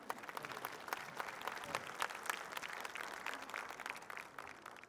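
Audience applause fills a school annual day program, a continuous, fairly faint patter of many hands clapping steadily throughout with no speech over it.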